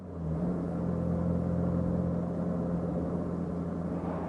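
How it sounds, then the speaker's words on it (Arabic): A car engine rumbling steadily close by as the driver presses the accelerator, a continuous low drone that holds at an even level for several seconds with no talking. "دوس بنزين يا اسطى."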